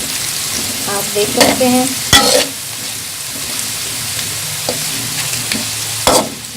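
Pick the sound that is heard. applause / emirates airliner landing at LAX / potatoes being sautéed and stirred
potatoes being sautéed and stirred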